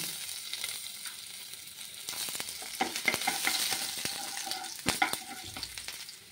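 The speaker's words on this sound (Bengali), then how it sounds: "রসুন হালকা ভাজা হয়ে গেছে" Close sizzling of garlic frying in hot oil tempered with nigella seeds, with repeated sharp clicks and scrapes of a spatula stirring through it.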